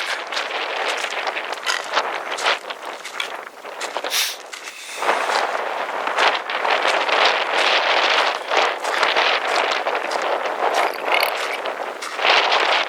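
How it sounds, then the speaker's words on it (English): Steady desert wind buffeting the microphone, a loud, continuous roaring rush with gusty swells over about thirteen seconds, with no talk. "We got some nice wind blowing, so it's kind of nice."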